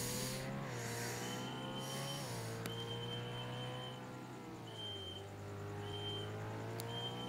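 A car in the video game Emergency Hamburg accelerates: a continuous engine whine climbs and shifts pitch through gear changes, with brief tire squeals over a steady in-game hum and no talking.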